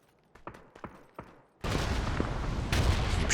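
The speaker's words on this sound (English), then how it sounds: "keeps shooting me as I'm trying to give my guys cover fire" Rapid gunfire in a PUBG match: a few sharp separate shots in the first half, then a dense, loud, continuous burst of firing that fills the rest.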